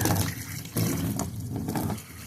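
Steady splashing and gushing of water pouring out of a seized, water-filled Chevy 250 inline-six engine, loud and close, with a brief surge partway through and a slight drop near the end.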